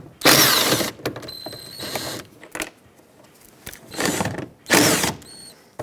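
A ratchet clicks as it loosens 10mm bolts on interior trim of a 2007-2014 Chevrolet Silverado 2500HD, with close bursts of rapid ratcheting separated by brief pauses and a few metallic clinks.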